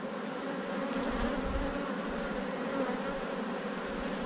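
Honey bees buzz at an opened hive, a dense, steady, close drone with no voices over it.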